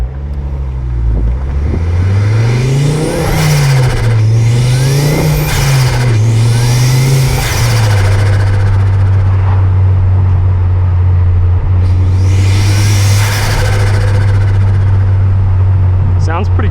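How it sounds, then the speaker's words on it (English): Ford Focus MK2 ST turbo engine revving hard on a drive, pitch climbing and dropping through several gear pulls before settling into a steady loud drone with turbo intake whoosh, close and dominant throughout. "hopefully the mic is picking up some nice intake noise for you guys"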